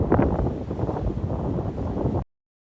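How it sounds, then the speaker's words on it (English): Strong wind buffets a coastal hilltop near a lighthouse on the Devon coast, a steady broadband roar and rumble that gusts unevenly, then cuts off abruptly. "I can really feel the wind up here"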